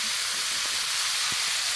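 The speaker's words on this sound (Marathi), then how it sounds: "तव्यावरती छान लागते मेथीची भाजी टाकली" Fenugreek leaves (methi bhaji) cooked with only salt sizzle steadily on a hot tava griddle, giving a continuous bright hiss with a few faint low knocks and no talk.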